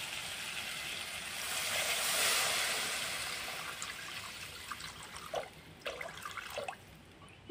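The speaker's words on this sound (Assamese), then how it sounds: "এইখিনি দিলোঁ পানী" Water is poured into frying spice masala in a pan for egg and potato dum, giving a soft steady rushing hiss that fades, followed by a few faint clinks.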